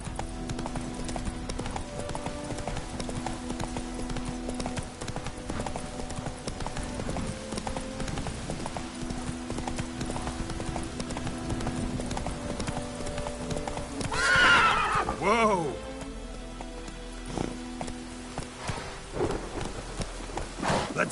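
A horse gallops in The Witcher video game, with rapid continuous hoofbeats throughout, a loud whinny partway through, and a stormy rain-and-thunder backdrop, close and steady.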